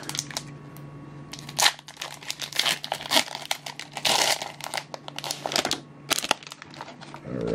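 Foil wrapper of a Pokemon Shining Legends booster pack being torn open, close-up crinkling and crackling in bursts with sharp tearing rips and short pauses.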